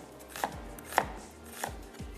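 A knife slices onion on a board while kheer is prepared: four sharp chopping strokes at irregular intervals, fairly close, with no voices.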